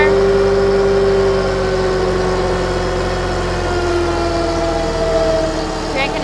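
A tractor-pulling engine labors under load on a dyno, a loud, sustained mechanical drone with a slowly shifting whine as revs change, heard up close.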